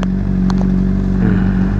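A Honda CBR600RR motorcycle engine rumbles steadily and loudly close by, a deep continuous drone with a slight rise in revs near the end.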